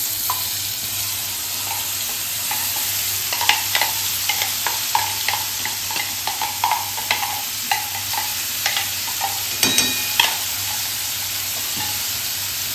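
Chopped onion and tomato frying and sizzling in a pan over a high flame while being stirred, with steady close sizzling and frequent scraping, clattering stir strokes throughout.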